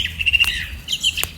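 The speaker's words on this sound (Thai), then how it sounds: "ฟังเสียงนกร้องเพลง" Birds call in a grassy field, two short bursts of sharp, high squawking chirps close by and fairly loud, with no voices.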